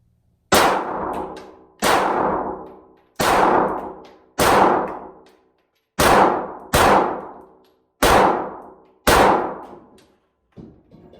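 A CZ P10 pistol fires a steady string of about eight loud, sharp shots outdoors, each followed by a ringing clang from steel targets, spaced roughly a second apart with a short pause midway.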